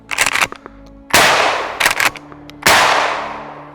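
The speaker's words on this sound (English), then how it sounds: "I could hear a huge difference between the birdshot, the buckshot, and the slugs with the suppressor on." A suppressed shotgun fires buckshot twice, each shot a sharp loud blast with a long decaying tail, with metallic clacks of the action cycling before and between the shots.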